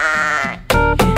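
A singer mimics a sheep bleating in a preschool farm song, a loud, close, quavering 'baa' that runs just under half a second, then gives way to louder singing.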